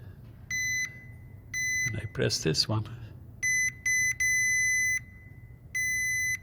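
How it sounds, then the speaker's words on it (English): A continuity tester buzzer beeps in steady, high-pitched tones during a DIY repair of a Viscount organ pedalboard with magnetic reed switches, about six separate beeps of varying length, with someone talking briefly in the middle. "I connected continuity buzzer"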